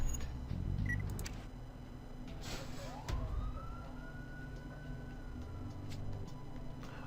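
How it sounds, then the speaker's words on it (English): Fire truck sirens sound faintly outside, a thin rising and falling wail drifting in from a distance beneath low indoor hum and soft background noise. "I hear the fire trucks outside"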